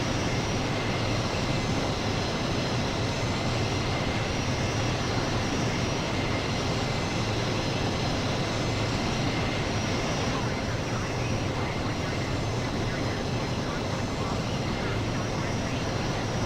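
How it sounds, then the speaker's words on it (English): Engines of a Boeing C-17 Globemaster III roar steadily in Microsoft Flight Simulator, a dense, unbroken drone that fills the scene from start to finish. "C17 Globemaster"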